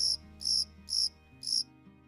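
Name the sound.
crickets chirping sound effect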